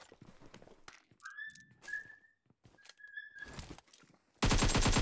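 A DBS shotgun fires in PUBG Mobile gameplay as a series of sharp, separated shots with whistling tones between them, ending in a sudden, loud, sustained burst of gunfire.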